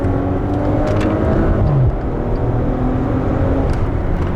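A Maserati Quattroporte Ermenegildo Zegna Pelletessuta with a turbo engine hums loud and steady at high RPM, a dense droning engine roar heard from inside the car with no talk.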